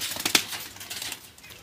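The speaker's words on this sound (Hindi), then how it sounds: "कुछ मैंने कबूतर बाहर उड़ाने के लिए छोड़ दिए हैं" A quick flurry of pigeon wings flapping close by, a few sharp beats, then fading, with no voices.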